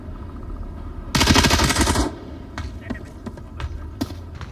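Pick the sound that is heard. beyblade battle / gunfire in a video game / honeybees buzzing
gunfire in a video game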